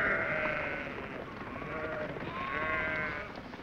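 Sheep bleating in sheep country, a few wavering calls at a moderate distance over a soft steady outdoor background, with no talking.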